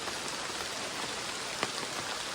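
Steady rain pattering on leaves in a forest, heard from shelter under a banana tree, a dense continuous hiss of drops with occasional louder nearby splashes, no voices.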